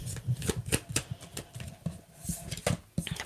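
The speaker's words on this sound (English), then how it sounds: "So let's shuffle out the Spirit Says deck here." A tarot deck is shuffled by hand in quick irregular bursts of riffling and card slaps, close and crisp, with brief pauses between handfuls and no talking.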